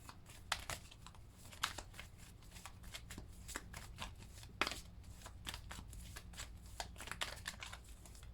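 Tarot cards are shuffled and drawn, making soft papery riffles and flicks with sharper snaps scattered irregularly through the quiet, close-up passage.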